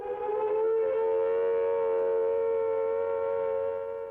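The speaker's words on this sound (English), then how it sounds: "A wavering, undulating sound on the outdoor sirens lasting 3 to 5 minutes" Civil defense attack warning siren sounding outdoors with a steady wavering, undulating tone, loud and continuous on its own with no voices.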